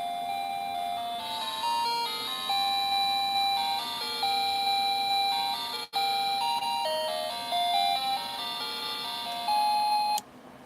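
A tinny electronic tune plays from a motion decoration, bright chiming notes looping loudly, briefly cut once before repeating.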